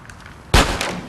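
A single sharp gunshot from GTA San Andreas gameplay bursts loud and close, followed by a short decaying rumble over quiet background.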